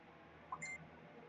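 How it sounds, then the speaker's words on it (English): A mobile phone notification sounds as a short, faint pair of electronic beeps against a quiet background hum. "My phone's going off."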